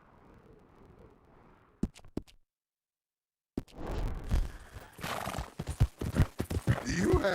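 Hooves clip-clop briefly after a quiet stretch in Red Dead Redemption 2, then a horse whinnies amid busy clattering movement and voices talking.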